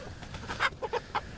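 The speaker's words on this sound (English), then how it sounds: "Jeez, they must be hungry, these chickens" White Leghorn chickens cluck close by, a few short, clipped calls bunched in under a second and a half against faint background noise.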